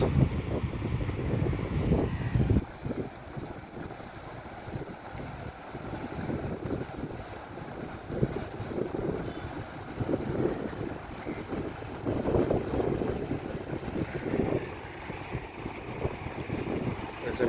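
Ferry vessel engine on the Ganges at a jetty, a steady low rumbling drone with wind buffeting the microphone and water wash, continuous throughout.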